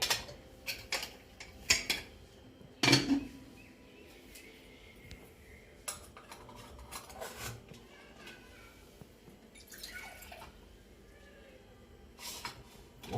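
Cooked bhog offering being set into metal serving vessels, with scattered sharp clinks and clatters of dishes and utensils, one louder knock near the start, over quiet background talk in a home kitchen.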